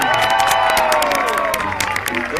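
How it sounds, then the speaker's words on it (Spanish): Loud applause and cheering from a crowd at a trophy presentation after the Gran Premio Internacional Cantones de A Coruña race, with dense clapping and whistles while an announcer speaks over it. "un aplauso muy fuerte para Álvaro Martín"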